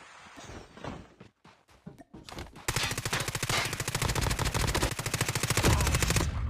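Rapid automatic gunfire in the Call of Duty Mobile shooter game: a few scattered single shots and thuds, then a long sustained burst of fast, loud, evenly spaced shots that keeps going to the end.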